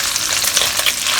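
Homemade egg tofu fries in a Shogun by Gourmet pan, giving off a loud, continuous hiss and crackle of hot oil that stays steady throughout, close up and with no voices.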